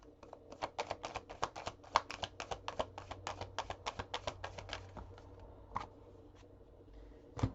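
Tarot cards are shuffled in a rapid run of crisp, close riffling taps, about twenty quick strokes, then a pause and a couple of isolated soft taps, quiet and with no talk.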